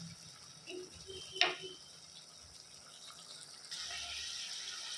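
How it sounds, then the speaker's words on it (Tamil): Water runs briefly into a pot of chicken curry being cooked in ghee, a soft trickle with a sharp clink near the start and quiet kitchen background throughout. "இப்போ கறி முழுகிற அளவுக்கு நம்ம வந்து தண்ணி ஊற்றிடலாம்."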